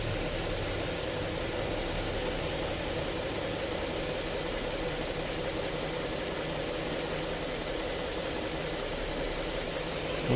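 A 2014 Lincoln MKX with the 3.7-litre engine idles roughly and close up, a steady dense mechanical drone with a faint uneven knock running unbroken through the whole stretch, no voices.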